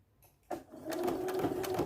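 A sewing machine stitching a bag strap starts with a click and then runs in a steady, fast mechanical whir, close and fairly quiet.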